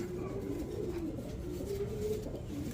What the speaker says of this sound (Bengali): এখানে একটা লাহোরি কবুতর, হলুদ লাহোরি